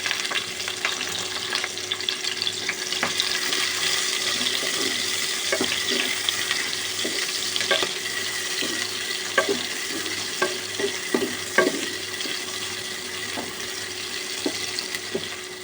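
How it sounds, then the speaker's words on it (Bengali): Chopped onion and green chilies fry in hot soybean oil for beef nihari, a steady close crackling sizzle with scattered pops and occasional stirring clicks throughout. "তেলটা গরম হলে দিয়ে দিচ্ছি পেঁয়াজ কুচি আর কাঁচা ঝাল"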